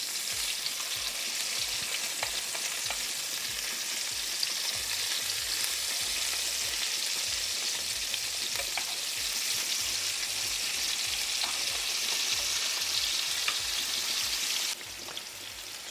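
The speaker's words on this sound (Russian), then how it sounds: "Лучше всего, конечно, мясо обжарить со всех сторон, чтобы оно было румяное и сочное." Meat medallions fry in a pan with garlic, a dense continuous crackling sizzle with scattered pops, close and steady throughout before dropping slightly at the end.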